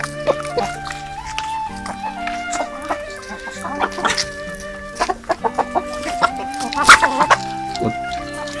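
Domestic hens with a wheezing respiratory illness during autumn moulting cluck in short, repeated bursts, fairly close and moderately loud, with a few sharper calls and some harsher raspy notes near the end.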